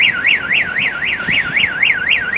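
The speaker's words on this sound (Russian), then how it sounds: "Вот на кой ляд вот в наше время делать такие сигнализации?" A car alarm wails loudly on a Saint Petersburg street off Nevsky Prospekt, a steady rising-and-falling electronic whoop cycling rapidly and continuously, with dull street noise underneath.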